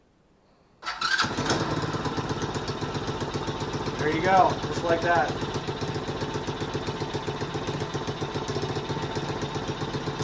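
A cold Tao Tao 110cc ATV engine with a replaced starter cranks and catches after a second of silence, then settles into a steady, close, chugging idle while someone speaks briefly over it.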